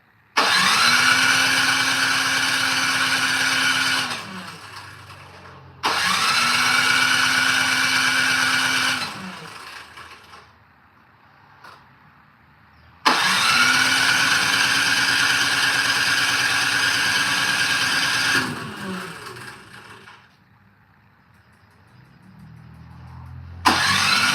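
A snow blower engine during live repairs cranks and catches, runs at a steady loud idle for several seconds, dies, then restarts and idles again before fading, repeated in two long runs with quiet gaps between.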